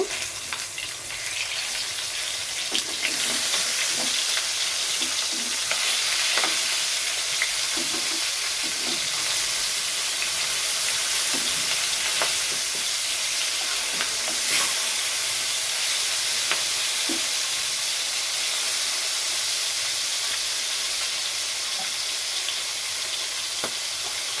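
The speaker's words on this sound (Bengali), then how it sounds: "মাছগুলো একটু উল্টিয়ে দিব" Fish fry in a pan of hot oil, a loud, unbroken hissing sizzle that runs the whole length, dotted with occasional soft clicks and pops from stirring and turning.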